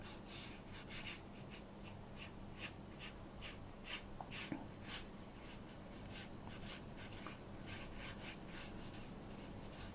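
A paintbrush strokes watercolour paper in a quick, steady run of soft, faint brushing sounds while painting the water of a harbour scene. No one speaks.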